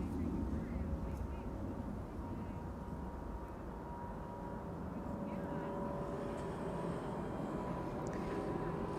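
A KLM Boeing 777-200 jet at Amsterdam Schiphol Airport gives a deep, steady engine roar that fills the whole stretch, broad and rumbling, with a faint higher whine rising near the end.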